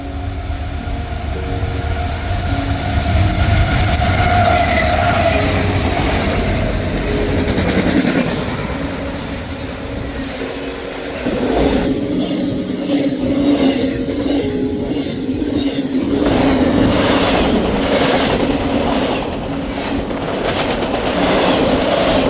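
CSX freight train I-008 rolls past eastbound behind a YN2 AC44 locomotive, a loud close rumble with steady clickety-clack of wheels over rail joints and rattling cars, surging and easing as the consist goes by.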